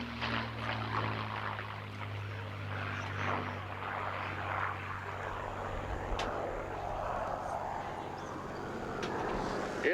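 A P-51 Mustang with a Merlin engine drones past at an airshow, a steady low propeller roar throughout with a broad whooshing swell midway, distant and alone.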